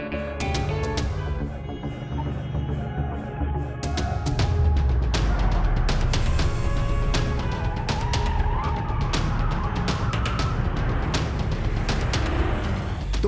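A car speeds in a chase scene from a Hindi-dubbed South Indian action film, a roaring engine building up with sharp tire skids and crashing impacts, loud and continuous without speech.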